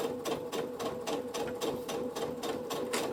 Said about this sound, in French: Je vais tourner mon tissu. Et je continue ma couture.